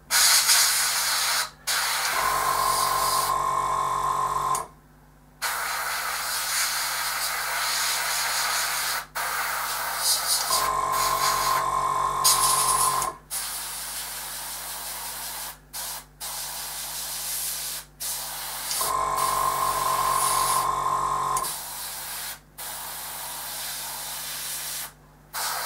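Brown paint is sprayed in thin coats onto a MiG-23 scale model. Three steady hissing bursts of a few seconds each are separated by pauses, and a faint mechanical hum sits beneath the spray.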